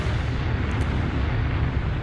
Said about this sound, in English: There's some pretty lights right there with an explosion.